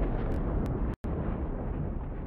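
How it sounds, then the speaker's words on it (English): Fireworks in a video game go off as a dense, loud, continuous rumble of bursts, cut by one abrupt instant of silence before the blasts resume. "That was just a little bit of fireworks."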